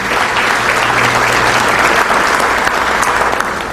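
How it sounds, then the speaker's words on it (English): Loud, dense audience applause fills a room at a chamber of commerce breakfast event, holding steady and close throughout with no break. "Let's have a round of applause for them for a great job."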